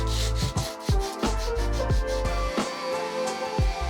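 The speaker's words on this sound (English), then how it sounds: "I got out that sander and sanded down the entire thing so that that paint would really grip to the surface of this veneer that's on IKEA furniture" Power sander working over the wood veneer of IKEA furniture, a steady close-up buzzing rub broken by repeated rhythmic strokes across the surface, with no talking.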